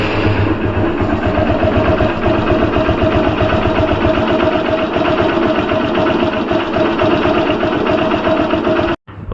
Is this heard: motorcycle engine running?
yes